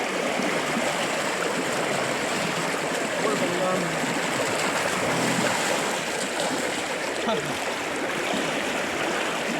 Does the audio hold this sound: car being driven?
no